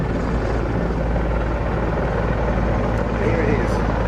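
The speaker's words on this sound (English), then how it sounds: "Here it is, getting back into the air for the 221st Helicopter Squadron of the Czech Air Force." A Czech Air Force Mi-24 Hind military helicopter lifting off at the Duxford air display, its loud, continuous rotor and turbine roar close and steady throughout, with a faint voice in the background.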